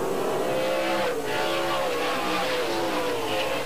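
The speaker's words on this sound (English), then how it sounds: "Cars get up to pretty good speed here at Tucson Raceway Park" Race cars from the 1997 NASCAR Southwest Tour Winter Heat 200 scream at speed around Tucson Raceway Park, their engines whining loudly with shifting pitch as several pass in a continuous blur of engine noise.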